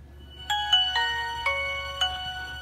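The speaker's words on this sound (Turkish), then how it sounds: "Evet, şöyle telefonu bir açalım." A Nokia 1600 mobile phone plays its power-on tone, a short electronic melody of about five bright, clear notes in quick succession, heard alone with no talking.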